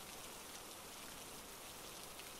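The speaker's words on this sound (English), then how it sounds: "The rain's annoying." Rain falls in a soft, even hiss of steady drops, faint and continuous with no pauses or voices.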